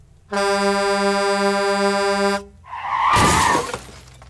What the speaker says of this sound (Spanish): justo en ese momento tocó el claxon un tráiler